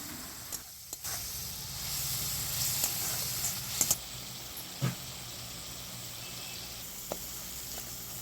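A spice paste of turmeric and coriander-cumin powder with a splash of water sautés in a pan with a continuous quiet hiss, broken by a few faint taps and scrapes of stirring, and no talk.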